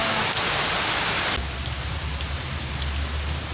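Steady rain pours down as a dense, continuous hiss, loud and close, easing slightly partway through as a low rumble rises underneath.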